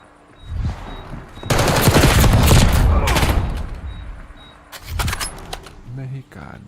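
Rapid automatic gunfire from Call of Duty Black Ops 6 in a ranked match, a dense sustained burst of about two seconds followed by a few scattered shots, loud and close, with a voice talking over parts of it.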